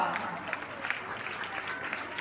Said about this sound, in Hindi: मैं एक बार सबकी ताली करता हूं इस बात पर